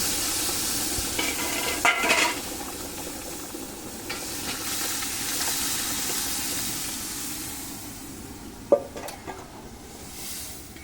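Boiled lentils sizzle and bubble in a wok while being stirred, with a few sharp scrapes and clinks of a utensil.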